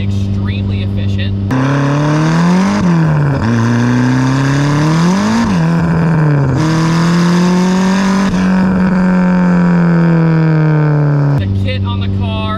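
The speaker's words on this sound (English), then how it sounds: "SR20 turbo, but not just that, a Garrett single turbo, so you know it's going to spool extremely fast and extremely efficient" A Nissan Silvia S15 with an SR20 engine and Garrett single turbo drives past loud and close, its engine note rising and falling through gear changes in a steady sustained roar lasting about ten seconds.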